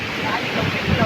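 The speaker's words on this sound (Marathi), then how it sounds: "हे बघा कसले झडी बिडी मारते पाण्याची." A large waterfall rushes and sprays in heavy rain, a dense, steady roar of water close by, with a voice speaking over it.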